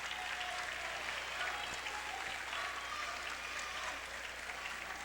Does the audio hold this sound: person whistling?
no